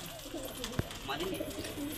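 Pigeons kept in a loft of around fifty birds coo in soft, low, rolling calls, overlapping with nearby speech and a brief sharp knock midway.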